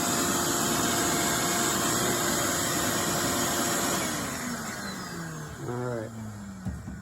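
A vacuum sucking dirt-dauber debris out of an RV furnace, a steady loud whine and roar that drops in pitch and fades near the end, with brief talk layered over it.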